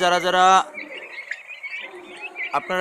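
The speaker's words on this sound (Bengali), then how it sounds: "আপনারা দেখতে পাচ্ছেন জান পাখি ফার্মের টার্কির বাচ্চা" Turkey chicks at a turkey farm in Mymensingh, Bangladesh give a chorus of thin, high chirps and peeps, close and continuous, with a brief human voice at the start.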